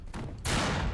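Hand mortar explosions in a video game aboard a ship, a quiet rumble that suddenly gives way to a loud, dense roaring blast lasting to the end.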